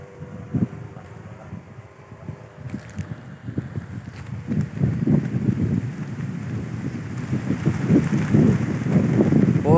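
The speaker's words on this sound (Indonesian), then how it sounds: "Wah, anginnya wes edian." Strong wind buffets the microphone outdoors at a kite test flight, a gusty low rumble that builds steadily louder over the clip, with faint distant voices in the background.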